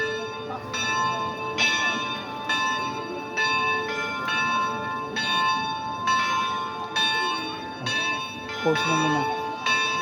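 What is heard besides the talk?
church bell ringing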